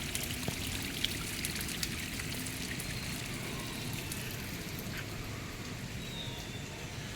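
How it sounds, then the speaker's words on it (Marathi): Steady babbling of a mountain stream flowing over rocks near Khopoli, India, a continuous close rushing trickle with no voices. "आनंद घ्या आवाजाचा खळखळचा"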